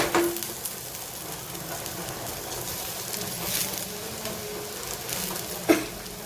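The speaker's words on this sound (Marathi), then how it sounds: "आता आपण याच्यात टॅमॅटो घालत आहोत चिरलेले" Chopped tomatoes added to softened onion in a hot pan for an Indian tondli vegetable dish, a soft steady sizzle and crackle with a few light stirring clinks.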